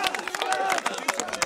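Crowd at a local football cup final cheering after a goal, excited shouting and clapping mixed with nearby voices in short bursts.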